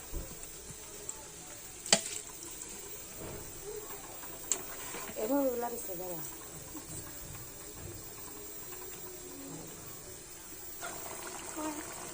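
Baim fish goes into a pan of cooked-down spice masala with water, frying with a continuous sizzle, scattered stirring clatter and a few sharp knocks, with brief soft sounds that may be a voice.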